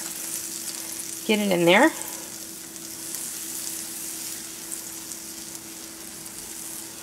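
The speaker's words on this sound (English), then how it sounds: "first thing you're going to do is melt your butter." Butter melts in a pan over medium heat on the stove, giving a steady, close sizzling hiss throughout, while a voice speaks briefly near the start.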